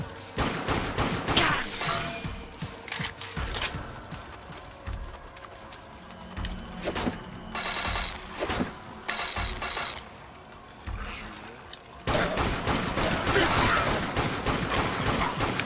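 Rifle gunfire in the zombie shooter Dead Nation, heard as bursts of loud sharp shots with clattering impacts and game noise, in uneven clusters and sustained volleys throughout.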